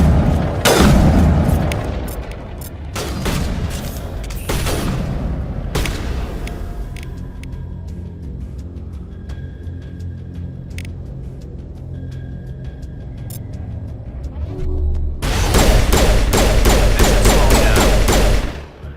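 Rifle gunfire in Mass Effect: Legendary Edition comes as loud, booming bursts at the start, then a steadier rumbling stretch, and a final dense volley of shots at the end.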